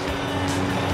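Motorcycle engine drone in the video game Death From Above, a steady low humming tone held for a second at moderate loudness, close by.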